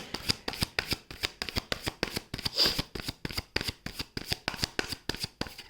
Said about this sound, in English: So I will also get one more card as a supporting card to see that what comes forth for you